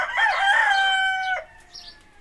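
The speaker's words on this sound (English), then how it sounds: "that rooster's trapped. I don't think it would crow as much if it wasn't trapped." A trapped rooster crows once, loud and close, the strained call holding for about a second and a half before cutting off, followed by a faint higher chirp in quiet surroundings.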